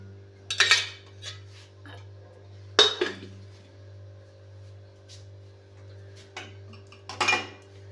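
A pan set down on a stove with a few clanking metal knocks against the burner, followed by quieter handling as oil is poured in, all over a steady low hum.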